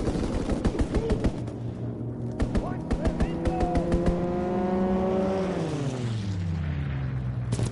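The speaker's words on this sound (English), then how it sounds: "Enemy strafing run inbound." Machine-gun fire from an enemy aircraft strafing run in a World War II video game, a rapid burst of shots over a droning engine that sweeps down in pitch as the plane passes, with voice announcements around it.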